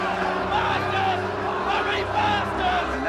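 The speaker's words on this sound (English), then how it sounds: "And no doubt here the crowd's reaction to that." A cricket crowd at a Test match reacts loudly and steadily with dense murmuring and raised voices after a batsman takes a short ball to the midriff, a continuous roar of babble throughout.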